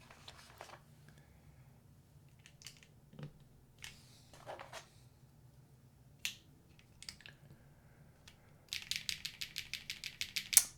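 Plastic keycaps click, tap and rattle sparsely as they are swapped on a mechanical keyboard, ending with a quick run of sharp clacks, all quiet and close with no talk.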